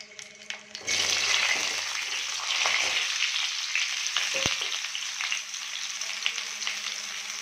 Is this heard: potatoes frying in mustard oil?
yes